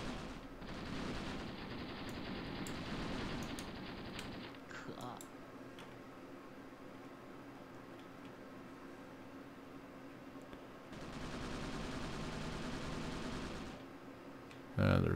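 Tank cannon and machine-gun fire in the Graviteam Tactics war game, a Soviet versus China 1969 battle; two long stretches of sustained, dense firing bracket a quieter middle, with a voice speaking over the combat.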